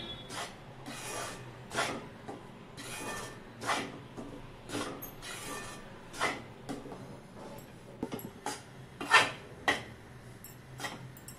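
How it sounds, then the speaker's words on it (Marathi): Two cups of wheat flour roasting in ghee in a pan are stirred with a spoon, giving a series of repeated scraping rubs and soft knocks against the pan, close and fairly quiet. "आता लाडूसाठी आपण या तुपामध्ये गव्हाचं पीठ 2 वाट्या भाजून घ्यायचं आहे।"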